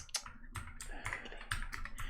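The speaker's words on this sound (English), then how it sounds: "it's a keyboard." Computer keyboard typing, a quick run of crisp key clicks in an uneven rhythm, close and fairly quiet, with no talking over it.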